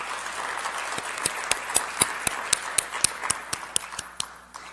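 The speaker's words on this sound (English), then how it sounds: "Please give her a round of applause." Applause at a school board meeting: a small audience claps at a steady rhythm, with individual claps clearly distinct, moderately close and fading toward the end.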